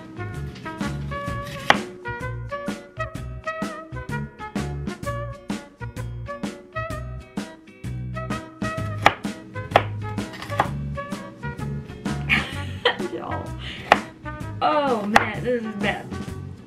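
Knife chopping a whole onion on a board, a quick series of sharp, close taps in an uneven rhythm with music playing underneath.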